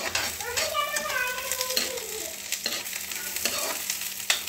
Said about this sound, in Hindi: मिर्च भी डाल दूंगी जिससे वो भी फ्राई हो जाए